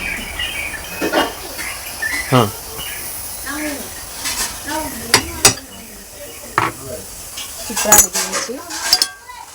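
Steel plates and cutlery clatter and clink in a string of sharp, close knocks while puttu is served, with insects chirring faintly in the background and no talking.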